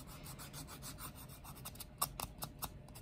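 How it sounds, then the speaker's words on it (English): An acrylic fingernail being filed with a nail file, a steady close rasping of quick back-and-forth strokes that grows sharper and more separated toward the end, with no voices. "So I'm going to start by filing the nail just a bit."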